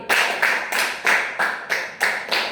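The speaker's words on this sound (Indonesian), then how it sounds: "tepuk 1, tepuk 2, tepuk 3, tepuk 4, tepuk 5, tepuk 4 2 kali" A classroom of students claps hands in unison on a teacher's counted commands during a microteaching lesson, giving eight sharp group claps in a steady, even rhythm, close and loud with short gaps between them.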